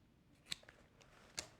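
Scissors snip through leftover duct tape on a handmade travel and locker organizer, giving two sharp, quiet cuts about a second apart against a faint room background.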